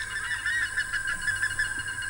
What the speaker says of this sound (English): Birds are making a real racket. They know there's a predator around.